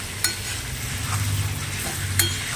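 Goat meat stir-fried in a pan, a steady loud sizzle close by with a couple of sharp metal scrapes as it is stirred, no talking.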